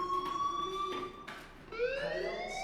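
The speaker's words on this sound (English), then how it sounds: "Hey, do you hear that fire alarm?" Fire alarm in the Life is Strange video game sounds as a moderate electronic tone, with shifting pitch and several sweeps heard over faint background noise.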